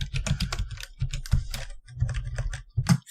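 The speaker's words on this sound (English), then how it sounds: "Furiously typing. Yeah, furious typing." Rapid, furious typing on a computer keyboard, close and clear, with dense bursts of key clicks broken by short pauses and no talking.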